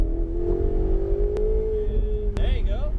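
A supercar engine revs and pulls hard on a race track, a loud rising drone with gear-change jumps near the end.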